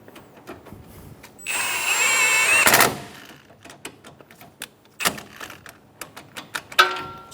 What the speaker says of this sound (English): Snug down the nuts for the bracket.